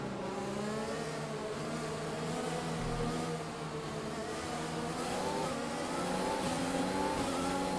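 Race cars in the F1 2020 video game accelerate at a safety car restart during a simulated Brazilian Grand Prix, with a dense, steady engine drone whose pitch climbs gradually as several cars pull away together.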